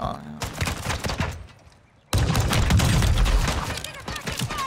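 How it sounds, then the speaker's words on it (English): Pistol fire in the video game Call of Duty Warzone 2: quick cracking shots in close bursts, a brief quieter lull, then a dense stretch of rapid gunfire with voices talking underneath. "Are we just doing a pistol battle here?"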